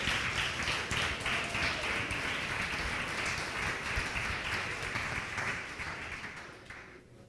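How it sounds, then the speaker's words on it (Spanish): A church congregation during a sermon gives a soft, distant round of clapping that holds steady and then fades away toward the end. "aplaude fuerte."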